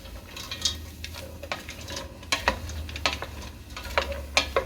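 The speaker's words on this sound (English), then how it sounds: "we're just going to cook those until the vegetables soften." Celery and peas cook in a pan on gentle heat, a soft sizzle beneath scattered spoon scrapes and light metallic clinks at an irregular pace.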